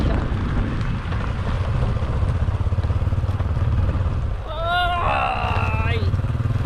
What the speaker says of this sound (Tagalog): yung motor ni Kuya parang kabayo